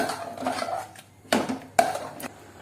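A spoon scrapes and knocks around a pot of moong dal pongal with cardamom, giving a few sharp clinks and scraping strokes close by, with no talk.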